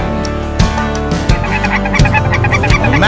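Loud, close waterfowl calls burst repeatedly at a Mississippi duck hunting spot, a chorus of harsh quacks and honking cries overlapping in quick succession.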